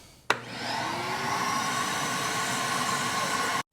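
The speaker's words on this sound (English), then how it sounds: "And then let's suck it out." A shop vacuum switches on abruptly and runs at a steady, loud whine for about three seconds while sucking brake cleaner out of a seized engine, then cuts off; no talking.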